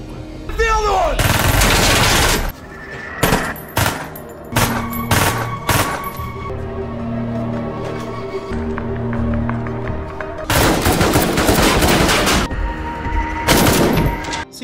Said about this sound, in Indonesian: Baku tembak pun terjadi karena pelaku tidak mau menyerah.